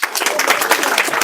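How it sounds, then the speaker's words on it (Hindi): Loud, dense applause from a classroom audience at an oral mathematics quiz, continuous for the whole moment with no gaps. "जोरदार ताली"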